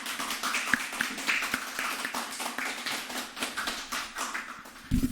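Audience applause at a talk, a dense patter of many hands clapping steadily at close range for several seconds, with a sharper burst near the end and no voices over it.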